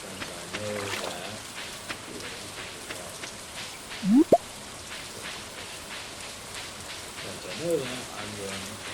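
Rain falling steadily in the Stardew Valley farming game, a soft faint patter that runs throughout, with brief game sound effects and a quiet voice over it at moments.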